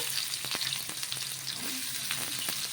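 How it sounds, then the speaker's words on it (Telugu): Onions frying in hot oil for a chicken dish, a steady close sizzle with faint scraping and clicks from stirring, no talk. "ఆయిల్ వేడెక్కాక మనమైతే ఆనియన్స్ వేసుకుందాము"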